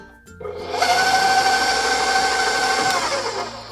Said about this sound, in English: we're going to put our cream cheese in our mixer and then add our sugar